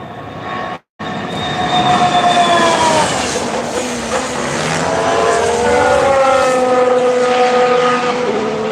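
A Haas Formula 1 car with its turbo power unit roars past loud and close at a Barcelona test, a sharp whistling whine sweeping down in pitch as it passes, after a brief cut.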